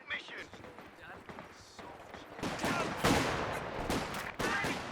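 Machine gun fire in Company of Heroes 2 during a 3v3 battle on a Rhine map: bursts of gunfire thicken midway into sustained, loud volleys mixed with other battle noise, with speech faintly underneath.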